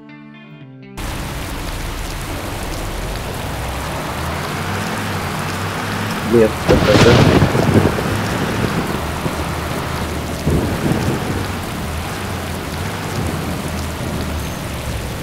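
A heavy downpour roars steadily around a yellow city bus on route 53, with a loud thunderclap rumbling through the middle and a brief spoken remark early on.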